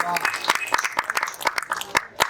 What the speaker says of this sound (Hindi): मेरी बहन शालिनी के लिए जोरदार ताली बजाए, उन्हें ताली।